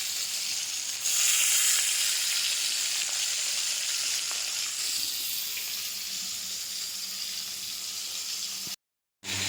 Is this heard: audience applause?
no